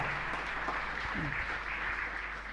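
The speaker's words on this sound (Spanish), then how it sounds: "a todos ellos un fuerte aplauso" A congregation in a chapel gives the parish choir a round of applause, a soft, distant wash of clapping under a low hum, with a few faint voices and shuffles mixed in.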